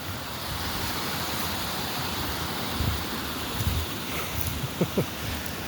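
Running water from a small stream flowing clear, a steady broad rush outdoors with occasional soft splashes, heard up close and with no talking.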